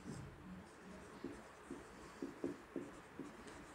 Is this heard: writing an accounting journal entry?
yes